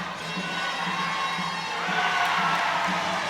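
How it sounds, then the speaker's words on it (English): A netball crowd at a World Cup match between Zimbabwe and Malawi roars and cheers after a goal, a loud sustained wall of shouting and whooping from a large arena audience. "That'll get the crowd going."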